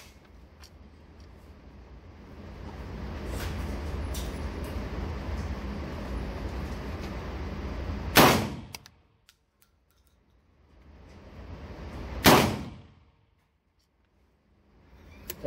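Two loud slug shots from an ATI Bulldog bullpup shotgun at an outdoor range, about four seconds apart, each a sharp blast with a short decaying tail over steady background noise.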